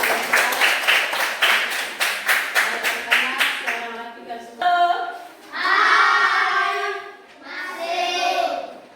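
A group claps together in a steady, rhythmic beat for a few seconds, then children's voices chant or call out loudly nearby.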